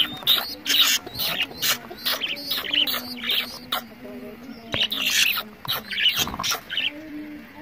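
Pigeon chicks give repeated high, squeaky chirps in rapid bursts close by, with short pauses between calls.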